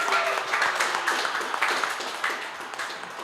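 A studio audience at a football talk show gives a short round of applause, a steady crackle of many hands that slowly fades, heard at moderate distance.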